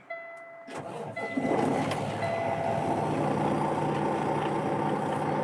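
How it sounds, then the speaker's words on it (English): A 2018 Kenworth T880 truck carrying an IMT crane with a hammer drill attachment cranks and fires up after a quiet moment, then settles into a steady, close diesel idle. "First, fire the truck up"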